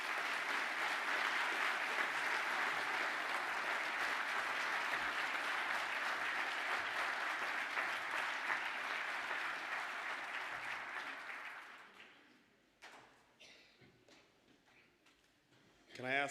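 A class stands for a round of applause at an awards ceremony, a sustained wash of clapping for about twelve seconds that then thins out into scattered claps, shuffling and a few faint sounds.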